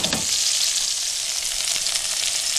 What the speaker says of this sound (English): I've been sauteing this for a little while now on high heat, high to medium heat